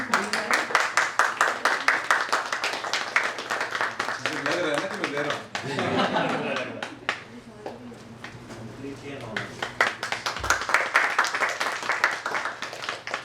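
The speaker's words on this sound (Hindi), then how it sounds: "तालियां बजती रहनी चाहिए।" An audience at a studio grand opening keeps up rapid clapping in bursts, loud and close, while someone talks over it and the applause swells again near the end.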